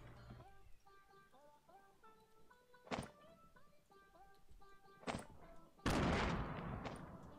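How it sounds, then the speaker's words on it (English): Grenades go off in Fortnite: three sharp blasts, the last a longer, rumbling burst, rising over in-game music and ambience with a faint voice behind. "Just throwing grenades randomly to get rid of them so they're not like complete waste"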